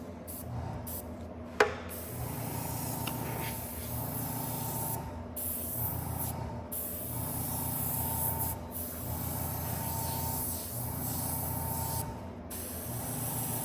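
An airbrush sprays paint for freehand flame artwork, a soft continuous hiss under a pulsing background hum, with brief pauses and one sharp click.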